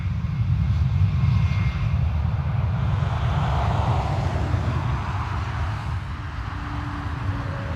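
Steady airliner engine roar on the runway at Dublin Airport, a continuous loud low rumble with no talk, holding evenly as the aircraft lines up for takeoff.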